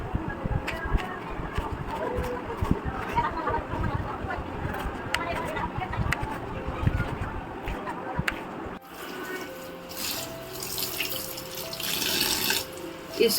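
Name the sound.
rinsing chowmein noodles under cold tap water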